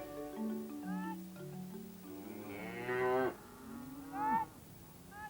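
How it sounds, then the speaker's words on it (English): Dairy cows on a farm moo repeatedly, several long low calls in succession with one fuller, louder bellow near the middle and another shorter moo toward the end, with no talking. "There are about 100 dairy cows on the farm, which are milked twice a day."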